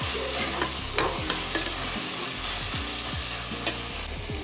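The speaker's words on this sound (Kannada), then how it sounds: "ಟೊಮೊಟೊ ಎಲ್ಲ ಚೆನ್ನಾಗಿ ಫ್ರೈ ಆಗಿದೆ." Tomatoes and onions fry in a pan with salt, a steady sizzle running throughout while a utensil scrapes and stirs in several distinct strokes, close and fairly loud with no voices.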